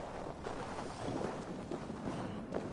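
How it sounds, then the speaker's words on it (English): Gusty wind before a storm in a video game, a steady broadband rush with swelling and fading gusts, fairly quiet, without voices. "Windy. Storm coming."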